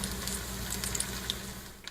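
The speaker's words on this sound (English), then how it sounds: "From a searing sizzle to an even simmer, cast iron cookware has been used for centuries to serve up meals." Food sizzling in a cast iron pan, a steady close crackling hiss with scattered pops throughout.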